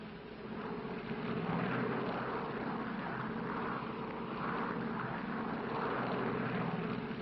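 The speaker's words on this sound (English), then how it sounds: "Los Angeles Tower, this flight 649, ready for taxi instructions" Propeller airliner engines of a 1940s passenger flight at Los Angeles running steadily as the plane readies to taxi, a continuous loud droning rumble with a pulsing rhythm and no voices.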